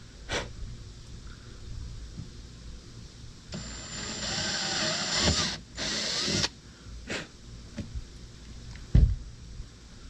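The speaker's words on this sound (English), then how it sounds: "Grab the drill. And slowly pop a couple of holes." A power drill slowly bores a couple of holes while a Bimini top is installed, with a brief whirring run of about three seconds between quieter handling noises and a few knocks.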